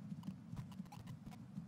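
Horse hooves clip-clop in a quick, even rhythm in Skyrim, close and moderately loud over a low ambient rumble for under two seconds.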